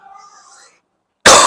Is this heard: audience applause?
no